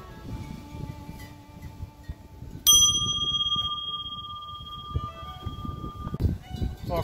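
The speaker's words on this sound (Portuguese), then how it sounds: "Toca o sino pequenino, seguinte." A small bell in a musical garden in Brazil's coffee valley rings once with a clear, lingering chime that slowly fades over quiet outdoor background noise.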